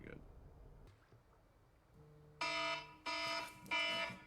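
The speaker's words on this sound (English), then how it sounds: "My damn alarm. Shut up." An electronic alarm goes off in a room, first a quiet steady tone and then three loud, harsh bursts that each cut off abruptly, with a voice heard faintly at the start.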